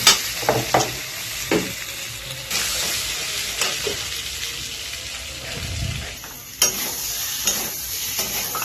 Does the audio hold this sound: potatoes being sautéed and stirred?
yes